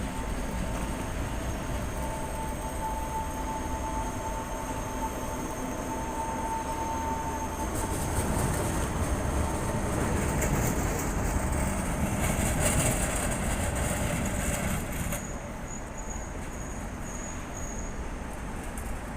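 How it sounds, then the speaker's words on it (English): A T14 tram passes on a Prague street, producing a loud, sustained rolling rumble with rail and wheel noise that swells and shifts for about fifteen seconds before easing, with no talk over it. "And just coming past we've got T14 tram"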